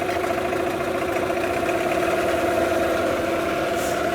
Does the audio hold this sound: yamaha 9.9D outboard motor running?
yes